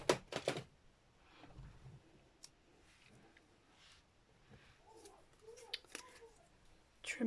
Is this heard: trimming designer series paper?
yes